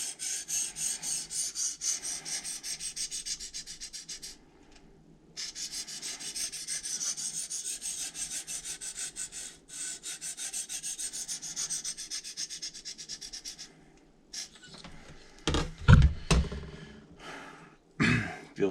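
Light, steady rasping strokes of a blade sharpened on a DMT diamond plate repeat close up in a quiet room, pausing briefly midway before a few heavier scrapes and knocks at the end.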